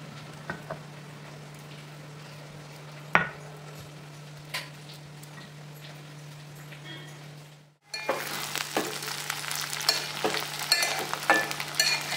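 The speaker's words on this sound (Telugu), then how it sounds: "మూత ఏం పెట్టకూడదు, అలాగే వేగనిద్దాం." Cluster beans curry (goru chikkudu pulusu kura) fries in an uncovered pan, a low simmering crackle with a steady hum and occasional ticks, then a sudden louder, denser sizzle with scattered pops after a brief pause.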